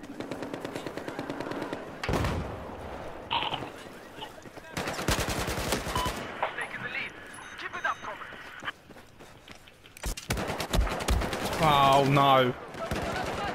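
Machine-gun bursts and single shots in a Battlefield 4 team deathmatch on the Lancang Dam map, loud and coming in separate bursts between stretches of excited talk from the player.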